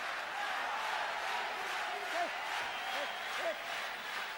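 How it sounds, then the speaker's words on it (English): A boxing arena crowd roars steadily as it urges on heavyweight Axel Schulz in the fourth round against Jose Ribalta, a constant distant wash of cheering with a few shouts rising above it. "the crowd starts to urge on Axel Schulz to do something big"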